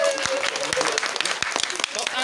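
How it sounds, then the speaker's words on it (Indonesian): A crowd claps at a live Sundanese-Batak comedy show, with scattered sharp hand claps and a loose clapping rhythm under a voice talking over the top. "Tepuk tangan dulu untuk kita semua."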